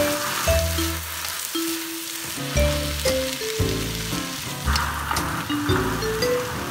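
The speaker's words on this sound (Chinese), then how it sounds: "放入菠菜以后，我们快速的翻炒" Spinach is stir-fried quickly in a wok under a steady loud sizzle and scraping toss, with sustained background music tones running throughout.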